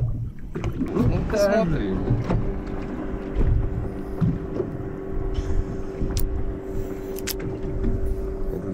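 Motorboat on the Ivankovo reservoir during a spring zander fishing trip, a steady low engine drone running throughout with water and wind noise, while people talk nearby.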